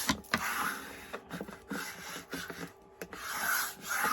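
Masking tape being smoothed onto a wooden blank by hand, giving soft, close rubbing and rasping strokes in irregular bursts, with no talk.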